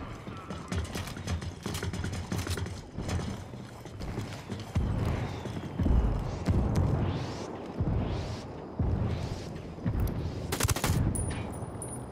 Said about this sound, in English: Calling for indirect fire.